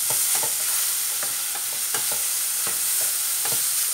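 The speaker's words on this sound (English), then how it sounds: "You keep stirring them until all that juice is gone." Mushrooms fry in a pan under a loud, continuous hiss, with soft periodic scrapes and taps of a stirring utensil, heard up close with no talking.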